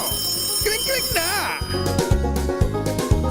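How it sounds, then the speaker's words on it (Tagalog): A telephone rings repeatedly behind a radio news broadcast, its electronic ring tone sounding under continuous background music and some talk. "Ang lakas naman ng kring-kring ng telepono ni Ate Cyril Ledo ng San Jose Occidental"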